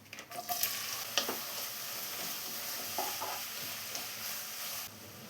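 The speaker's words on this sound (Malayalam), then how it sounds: "ഇതിലോട്ട് ആദ്യം നമുക്ക് 4 സവാള കട്ട് ചെയ്ത് വെച്ച് ചേർത്ത് കൊടുക്കാം." Sliced onions sizzle and crackle in hot coconut oil in a pan, with scattered stirring clicks and scrapes over a steady, soft frying hiss.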